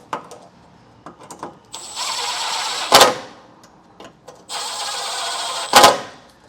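A hand ratchet snugs up the bolts on the running boards of a 2022 Toyota Tundra, heard as two stretches of quick rapid clicking, each ending in a sharp knock, with faint handling noises between.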